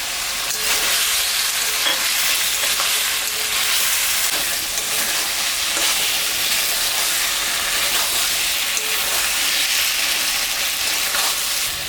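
Tomato goes into a pan of ginger, cumin and green and dried chilli paste frying for a tangra fish curry with potato and aubergine, giving a loud, continuous hissing sizzle close by with faint stirring, no voices.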